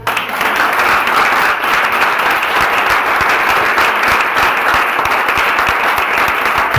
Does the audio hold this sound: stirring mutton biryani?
no